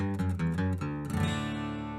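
Acoustic guitar in DADGAD tuning playing a descending bass run broken by strums, close and clear, with low notes stepping down into a ringing sustained chord.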